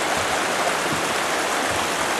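The Hita River flows in a steady, dense rushing wash, constant and fairly loud with no other sounds standing out.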